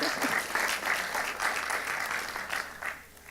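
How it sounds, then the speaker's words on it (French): Steady audience applause fills a lecture hall after a talk on reclaiming Saint-Nazaire's Reconstruction-era heritage, a dense even patter of many hands lasting a few seconds and tapering at the end. "Oui, on peut les applaudir."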